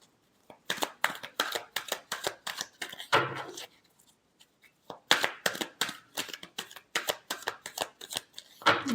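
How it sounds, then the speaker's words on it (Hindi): Tarot cards shuffled in bursts of quick riffling flicks, broken by short pauses and a brief soft thud, close and fairly loud with no talking. "last shuffle"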